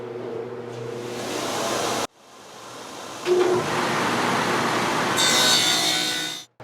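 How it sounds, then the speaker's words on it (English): A table saw fitted with a dado stack cuts grooves for top and bottom shelves in wood, sounding as a loud, sustained whining grind that stops abruptly, then starts again and runs steadily until it cuts off at the end. "I got my dado stack back in, and we're going to go ahead and create grooves for the top and bottom shelves."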